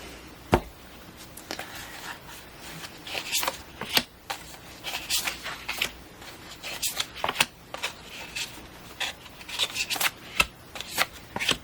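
Tarot cards being handled and cut, with soft riffling, slaps and snapping of the deck in irregular bursts close by.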